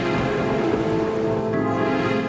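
Steady rain falls heavily and evenly, a dense, continuous hiss of drops on surfaces, loud and unbroken throughout with no voices.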